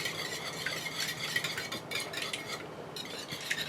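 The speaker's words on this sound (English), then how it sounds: "I'm going to whisk this together." Cheesecake ingredients whisked by hand in a bowl inside a small RV kitchen, a steady scraping, clinking rhythm of whisk against bowl, close and continuous with no talking.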